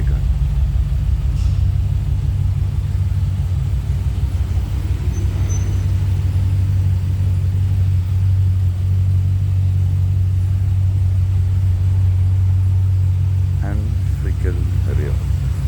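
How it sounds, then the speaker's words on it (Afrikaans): Corvette Stingray engine idling outdoors, a loud steady low rumble close by that runs the whole time, with someone talking over it. "So daar net nou hierdie Stingray kom start hier."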